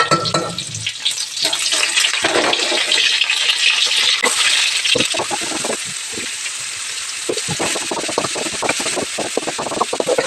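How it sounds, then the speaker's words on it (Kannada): Green beans stir-fry as beans palya in a pan, giving a loud, steady sizzle, with a run of sharp clicks and scrapes from stirring in the second half and no voices. "ಇವಾಗ ಬೀನ್ಸ್ ಪಲ್ಯ ರೆಡಿ ಮಾಡ್ತಾ ಇದ್ದೀನಿ"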